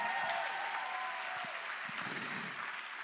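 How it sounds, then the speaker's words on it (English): Fairly faint applause from a crowd at a live charity fundraiser, a soft even patter of clapping that continues throughout, with a few louder individual claps. "Give them a round of applause, please."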